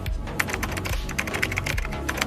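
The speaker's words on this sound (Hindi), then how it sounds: "अब मैं लिख रहा हूं टाइपिंग का साउंड इफेक्ट।" AI-generated keyboard typing sound effect: a quick, steady run of crisp key clicks over a low tonal bed, close and clear, with no voices.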